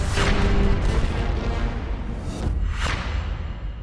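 A grenade explodes with a loud, full-bodied boom, followed by further blasts and rushing debris roar as part of dramatic trailer sound design, dense and continuous throughout.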